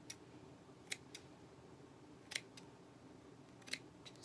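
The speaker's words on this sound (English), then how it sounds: "I usually snip it and then fluff it out and then trim it up" Scissors snip at a mini stocking hat yarn craft in three quick, sharp clusters of cuts spaced a second or so apart, close and crisp over a quiet room hum.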